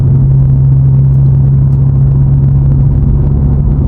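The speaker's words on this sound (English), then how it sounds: "the sound inside of the cabin of the car is quite loud with the power flow exhaust" Inside the cabin of a VW Polo 1.2 TSI with a Powerflow exhaust, a loud, steady engine drone hums continuously with a strong low tone and rushing road noise, with no talking.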